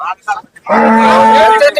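A single long, loud cow moo rings out at the Seenapuram cattle market, following a few brief scattered background sounds. No one speaks over it.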